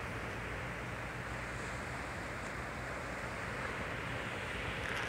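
Sea surf breaking on the beach at Toyohashi, Japan, heard as a steady, broad wash of waves with wind blowing across the microphone, continuous and fairly loud throughout without any voices.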